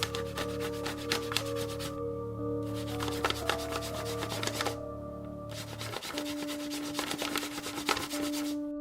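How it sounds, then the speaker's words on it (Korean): Cloth brushing and rubbing against a tent wall at night in a mountain valley campsite, a steady scratchy rustle that keeps going with brief pauses, close and soft, no voices. "텐트를 건드리는 건지 천이 스치는 듯한 소리가 계속 나더라고요."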